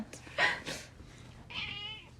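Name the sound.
cat meowing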